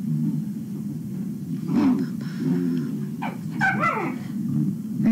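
Several dogs at a kennel let out a few yips and whimpers over a constant low rumbling background, the cries brief and moderately close.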